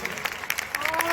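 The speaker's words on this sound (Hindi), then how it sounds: "तालियां बजाइए।" An audience at a Hindi poetry gathering (kavi sammelan) during a festival bursts into applause, a brief flurry of crowd clapping with some voices mixed in.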